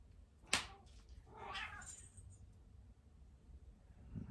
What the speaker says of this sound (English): cats are fighting down there